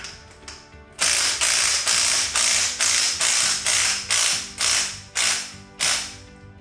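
A ratchet tightens bolts while a powered Jeep top is being mounted, giving a burst of quick clicks and then about nine loud, evenly spaced ratcheting strokes close up, with no speech.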